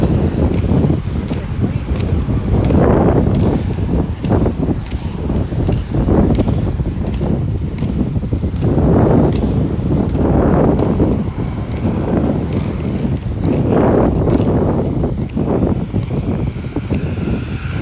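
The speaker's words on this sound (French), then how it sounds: "Ah, le vent frais, hein. Vous l'entendez" Strong, cool wind buffets the microphone while rollerblading outdoors, a constant roaring rush with surging gusts that swell and fade every few seconds.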